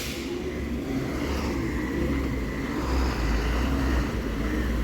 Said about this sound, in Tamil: BS6 Swift bus